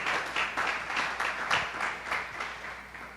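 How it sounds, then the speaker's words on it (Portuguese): Church congregation applauding during a worship service, a steady run of many hands clapping with rhythmic pulses, loud and close, slowly fading toward the end. "Dê uma salva de palmas ao Senhor."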